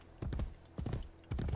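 Horse hooves clip-clopping in Assassin's Creed Brotherhood, three quick clusters of close, hollow hoof knocks at an even trotting pace.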